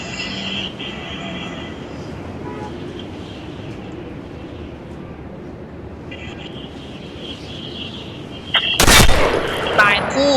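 Gunfire in a shooting video game, with a sharp loud burst of shots near the end after a stretch of quieter game ambience and faint talk.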